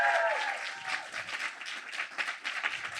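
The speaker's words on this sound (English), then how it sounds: "Give yourselves a round of applause for making it out to the show and packing the house." Audience applause at a live podcast show in Seattle, a dense, sustained wash of many hands clapping that stays loud and steady from start to finish with no voices.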